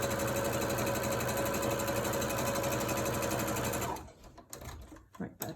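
A sewing machine top stitches a wolf mask in a fast, steady, loud whir for about four seconds, then stops, followed by a few faint clunks and handling sounds.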